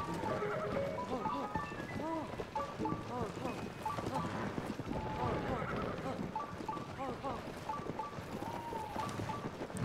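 A horse in the video game Zelda Tears of the Kingdom whinnies and snorts repeatedly over clip-clopping hooves and gusty wind, with voices talking underneath throughout.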